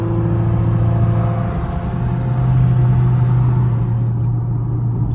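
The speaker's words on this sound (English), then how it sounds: "Is that his exhaust?" A car's exhaust revving at a Caffeine and Octane car meet in Atlanta, a deep rumbling drone that swells in the middle and then fades as it trails off near the end.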